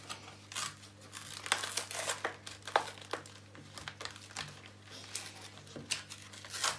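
Foil Pokemon booster packs being torn open, close-up crinkling and crackling of the foil wrappers in uneven bursts over a faint steady hum.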